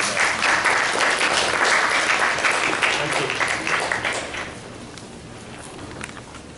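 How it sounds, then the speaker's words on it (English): An audience claps at a 52nd annual convention: a burst of full applause that gradually thins and fades out over the last few seconds. "give them a great round of applause"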